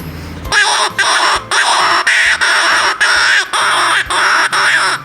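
A handmade bamboo rat call gives a run of harsh, raspy squawking bursts in quick succession, loud and close, repeated about eight times with short gaps.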